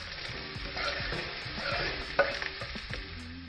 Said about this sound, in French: Mettre 2 cuillères d'huile dans le poêle et mettre les oignons